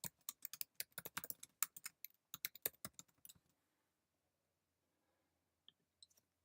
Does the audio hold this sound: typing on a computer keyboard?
yes